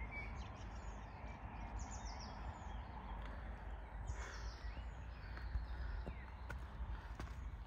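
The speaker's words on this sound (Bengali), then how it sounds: "পাখির খুব সুন্দর কিচিমিচি আওয়াজ" Birds chirping on a wooded hilltop above a town in Poland, scattered high calls at a distance over a steady outdoor background, with faint footstep-like knocks now and then.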